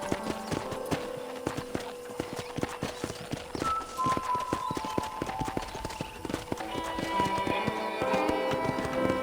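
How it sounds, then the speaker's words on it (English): Horse hooves clip-clop at a steady trotting rhythm in the Red Dead Redemption video game, loud and continuous throughout, with sustained musical tones underneath. "I picked out a fine horse for you. Giddy up!"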